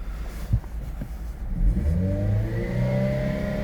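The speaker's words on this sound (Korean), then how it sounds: "엔진 성능 한번 보시겠습니다. 낙이 걸려서 4 이상은 안 올라가네요." An old Chevrolet Lacetti used car, high mileage and fitted with a rev limiter, is revved from idle: a few short throttle blips, then a rising, sustained engine roar held loud and close.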